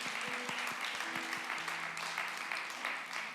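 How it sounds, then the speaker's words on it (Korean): A church congregation at a Korean Sunday worship service breaks into steady, dense applause, with soft sustained instrumental tones underneath. "어머님 이렇게 감사의 박수"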